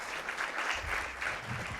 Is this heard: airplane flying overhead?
no